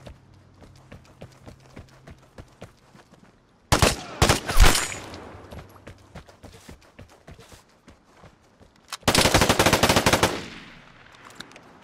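Machine gun fire in the shooter game Vigor, two loud sustained bursts of rapid shots separated by scattered single gunshots and footsteps, with no talking.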